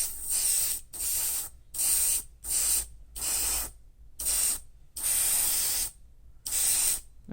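Airbrush spraying candy metallic lacquer paint onto a scale model, eight short hissing bursts of spray separated by brief silent pauses, close and steady.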